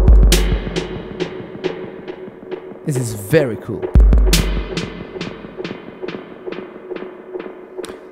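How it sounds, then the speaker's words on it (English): Roland RE-501 tape echo unit producing a dub-style delay effect, with repeating percussive hits that trail off in rhythmic echoes, plus a swooping pitch-sweep feedback burst midway; someone speaks briefly at the start. "that's how you get that famous dub effects that we hear from records coming from Jamaica."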